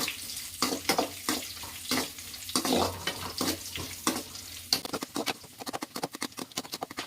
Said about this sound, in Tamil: பிஸ்தா பருப்பு, திராட்சை இது மூணுத்தையும் லைட்டாக வதக்கிக்கலாம்.